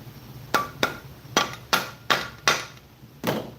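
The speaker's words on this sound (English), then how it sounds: "You know what I need is a hammer." Sharp metal hammer blows strike a Briggs and Stratton 5hp flathead engine, seven hits at an uneven pace, each ringing briefly and loud in a quiet workshop.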